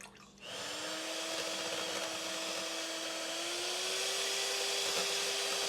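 An electric mixer with chilled beaters whips a cup of Silk whipping cream with a splash of vanilla in a frosty bowl, starting abruptly and holding a steady, loud motor whir with a slowly rising pitch.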